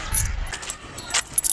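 A ring of keys jangles in short metallic shakes at a newly built school building, close by, with brief louder rattles toward the end.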